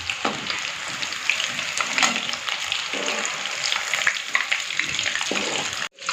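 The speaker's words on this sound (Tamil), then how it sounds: "இதே மாதிரி எல்லாத்தையும் பொரிச்சு எடுத்துக்கலாம்" Chicken 65 pieces frying in hot oil make a steady, dense sizzle that continues throughout at close range, with a brief dip near the end and no talking.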